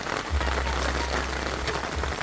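Steady rain falls on an outdoor cooking site in Jamaica where bird soup with pumpkin and corn is being made, a dense continuous patter with a low rumble underneath, no voices.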